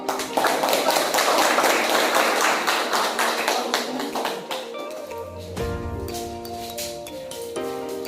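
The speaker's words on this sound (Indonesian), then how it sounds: "tepuk tangan untuk kelompok" A burst of applause from a classroom after a student group's presentation, loud at first and then thinning into scattered claps over several seconds.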